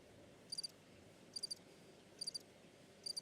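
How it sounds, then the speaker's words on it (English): Cricket chirps as a sound effect, four evenly spaced bursts of rapid triple trills, faint over a quiet hissing background with no talking. "Crickets."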